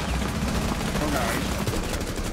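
Dense gunfire during a Rainbow Six Siege round, a steady stream of rapid shots from a teammate packed close together at a constant loud level, with no pause across the short stretch.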